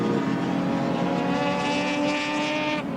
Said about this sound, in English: Deep-throated roar of the V8 heading down to the lake corner.